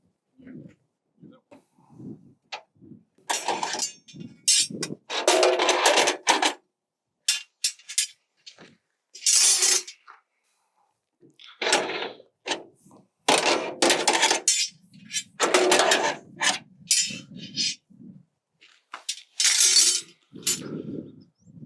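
Metal tines are lifted and slid out of a Munckhof one-way gravity gate during installation, giving scattered clinks, clanks and rattling scrapes in short bursts with quiet gaps between them.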